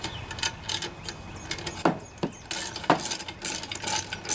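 Ratchet wrench turning a half inch socket on a bolt of a Toro Timemaster two-blade push lawnmower, quick clicking pawl bursts and metallic clunks close by, with a few sharper knocks between faint rattles.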